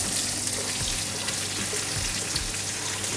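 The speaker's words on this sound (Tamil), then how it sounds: "நாங்கள் வந்து வெட்டி வச்சிருக்கிற எங்களோட வெங்காயம் தக்காளி எல்லாத்தையும் வந்து இந்த சட்டியில் அடுப்பை நல்லா குறைச்சிட்டு இதே சட்டியில் இந்த எண்ணெயில் போடும்" Onions and tomatoes fry in oil in a pan over low heat for a Sri Lankan spicy prawn aviyal, giving a steady, close, dense sizzle and crackle with no voices.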